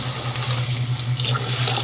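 Tap water runs steadily into a pot of fresh purple hull peas, a continuous close rushing stream with a low steady hum and no talking.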